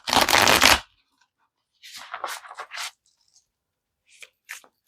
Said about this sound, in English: Let me give this another shuffle